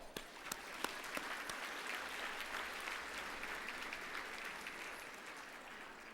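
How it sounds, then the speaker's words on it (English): Audience applause for sponsors at an awards evening, a sustained wash of clapping from a large crowd, opening with a few sharper individual claps and then holding steady at moderate distance. "Let's give them a round of applause"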